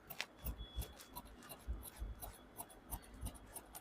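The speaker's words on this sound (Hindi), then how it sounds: "ये काट के निकाल दूँगा इधर से" Scissors cut through blouse fabric in a series of crisp, close snips with a rough rhythm, each one a brief crunching burst, with a soft voice heard faintly in the background.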